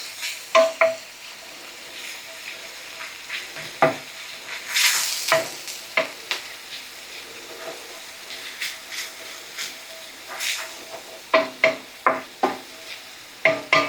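Ginger and garlic fry in a pan with a soft, steady sizzle. Sharp scrapes and taps of a stirring utensil break in every second or so, with a brief louder hiss in the middle.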